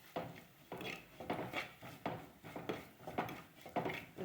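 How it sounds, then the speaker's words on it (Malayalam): Coriander powder, salt and spices being roasted in a pan while a spoon scrapes and stirs them, close rhythmic scraping strokes about every half second, quiet and with no talk. "ഇതിൻ്റെ പച്ചമണം വരുന്നത് വരെ മൂപ്പിച്ചെടുക്കാം."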